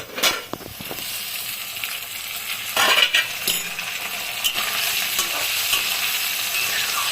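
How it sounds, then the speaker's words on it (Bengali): Sliced potatoes and onions fry together in a pan, with a steady sizzle and a few clinks and scrapes of a spatula stirring them. The sizzle builds louder near the middle and continues to the end. "পেঁয়াজটাও ভাজা হয়ে গেছে সুন্দর, আর আলুটাও ভাজা হচ্ছে একই সাথে"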